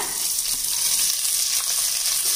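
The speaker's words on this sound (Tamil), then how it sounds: "இப்போ நம்ம நறுக்கி வச்சுருக்க வெங்காயம் பச்சை மிளகாய் சேர்த்துடலாங்க." Chopped onions and green chillies fry in a pan with a loud, steady, dense sizzle that stays continuous and even throughout, with no voices.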